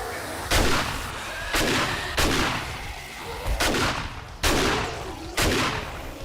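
Heavy gunfire against zombies in the video game 7 Days to Die, six loud booming shots spaced roughly a second apart, each with a long rumbling tail.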